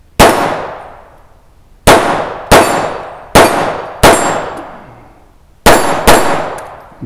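Outdoor plinking with a Taurus TX22 .22 pistol at steel targets, heard as seven loud, sharp shots that each ring off with a decaying metallic clang, spaced irregularly and with no talking.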